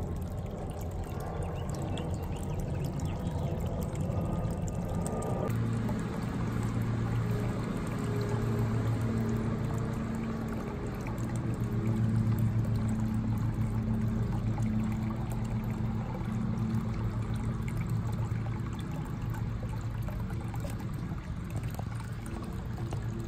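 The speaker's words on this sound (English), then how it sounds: "toad water fountain right there." A toad-shaped garden water fountain trickles into a small backyard pond, a continuous close babble of falling water with a steady low hum underneath, no voices.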